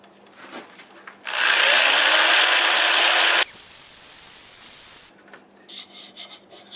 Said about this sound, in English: Okay, we are ready to sand.